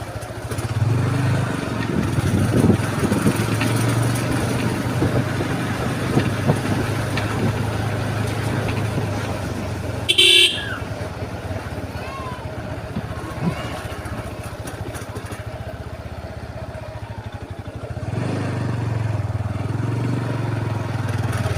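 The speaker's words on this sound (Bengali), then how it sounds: "পাড়াগাঁয়ের রাস্তা, যেতে খুব মজা।" Riding along a village road, a motor vehicle engine hums steadily and close throughout, with a brief sharp burst near the middle and a quieter, thinner stretch before the low rumble returns.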